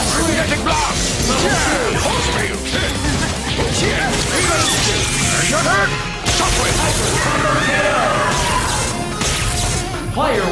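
Magneto's magnetic blast attack in Marvel vs. Capcom 3 on PS3, loud dense energy crashes and whooshing bursts over continuous game music, with a voice shouting in the fight.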